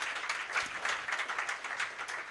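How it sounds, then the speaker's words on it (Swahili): A church congregation at a deliverance service claps as people go to sit down, a continuous moderate spatter of applause that stays even throughout, fairly distant and without speech. "Wapigieni makofi wanapoenda kuketi chini."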